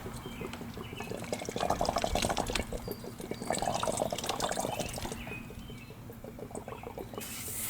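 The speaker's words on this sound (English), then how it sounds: "Look at that water go. You see it spinning in the top there?" Water swirls in a vortex inside an upturned bottle, a faint, continuous gurgling and pattering rush that swells and eases in waves, heard close up.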